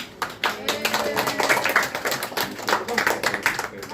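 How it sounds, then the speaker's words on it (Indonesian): A small group of people clapping during a family gathering, irregular sharp claps of varying loudness close by, with voices talking over them. "Ayo tepuk tangan."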